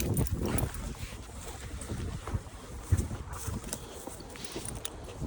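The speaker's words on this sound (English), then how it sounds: "A really strong wind coming from my left side." Strong wind blows outdoors during circle tracking, a steady roar with buffeting gusts against the microphone that runs the whole time without pause.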